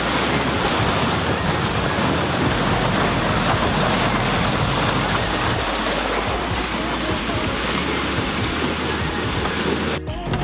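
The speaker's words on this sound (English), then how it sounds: "We are doing a little water fording right here. Oh, it's a little rocky. It's Charlie's Creek right here." A Jeep Wrangler JL fords rocky Charlie's Creek on a mountain trail, a dense, continuous rush of splashing water and engine noise close by, with a sharp clunk near the end and people talking underneath.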